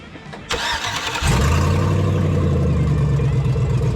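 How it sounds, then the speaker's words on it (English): A Chevrolet Silverado or GMC Sierra pickup truck engine cranks, catches and roars to life with a loud, rumbling exhaust, then settles into a heavy, steady idle up close. "we're gonna start it up"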